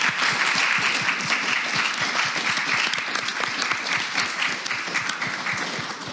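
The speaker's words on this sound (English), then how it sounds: "I was just wondering if we could give a round of applause to all of our panelists tonight" An audience at a Cambridge Union debate on religion in the United Kingdom applauds the panelists with dense, steady clapping that holds for several seconds and then tapers slightly, with no voices over it.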